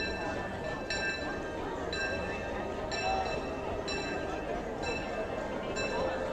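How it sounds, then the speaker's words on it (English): A park train rolls past at Disney California Adventure, a steady rumble with repeated metallic clinks and bell-like rings about once a second, fairly close amid crowd noise and voices. "Oh, here comes the train."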